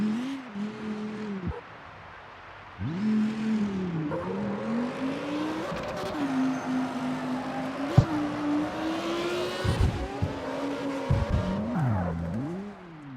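Engine and exhaust of a street car in the racing game CarX Street rev up and down in repeated rising and falling pulls, loud and close, with gear shifts, brief pauses and short bursts of tire squeal.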